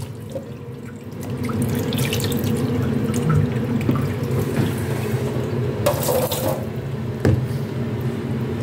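Tap water runs steadily into a sink to soak Chinese kangkong, a continuous close splashing flow with a few brief drips and clinks, with no talking.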